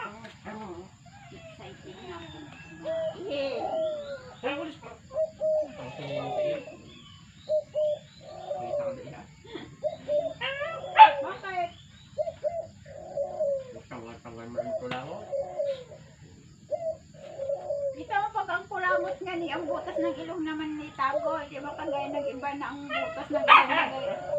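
Dogs barking repeatedly while eating, a noisy run of sharp barks and yelps across the whole clip, with bird cooing and people talking mixed in.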